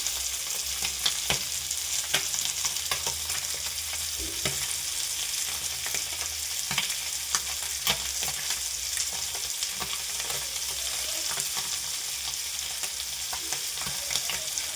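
Sardines frying in coconut oil with masala and curry leaves, a steady, bright crackling sizzle with scattered pops, close and continuous, no one speaking.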